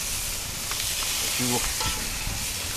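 Venison and bacon kabobs sizzle steadily on a grill as dripping oil flares up, a close, continuous hiss over a short moment.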